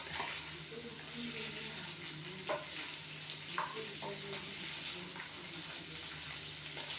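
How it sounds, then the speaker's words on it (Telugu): Bottle gourd peel frying in oil for a chutney, a steady soft sizzle with a few faint stirring clicks against the pan, fairly quiet and continuous. "ఇది బాగా ఆయిల్లో వేయించుకోవాలండి."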